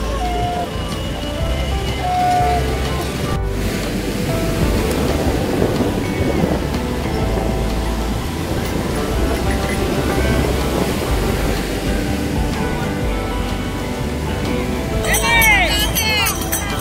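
Waves washing onto a beach in a steady broad roar of surf, with faint voices in the background.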